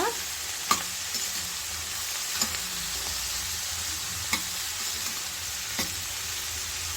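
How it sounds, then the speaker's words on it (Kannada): Spring onion stalks sizzle steadily while frying in a pan, with a few sharp spatula scrapes and knocks as they are stirred, close and alone with no voices. "ಈಗ ಒಂದ್ಸಲ ನೀಟಾಗಿ ಮಿಕ್ಸ್ ಮಾಡ್ಕೊಳ್ಳೋಣ"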